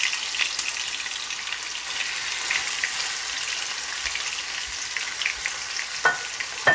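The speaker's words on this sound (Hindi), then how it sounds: "अब हम इसके अंदर ये मैरिनेटेड चिकन डाल देंगे।" Marinated chicken frying with softened tomatoes in a pan, a steady bright sizzle with scattered pops and crackles and a few sharper stirring clacks near the end.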